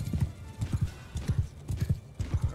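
Cavalry horses in Bannerlord move at a steady pace, their hooves clip-clopping in fast, repeating pairs of thuds, loud and close over a faint background.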